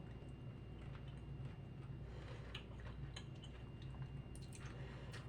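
Someone chews a mouthful of tender pork with white beans in tomato sauce, soft wet squishing and faint ticking bites close to the mic over a low background hum.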